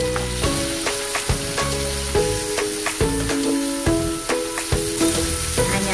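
Grated garlic and ginger sizzling in a hot pan: a bright, continuous frying hiss running under rhythmic background music.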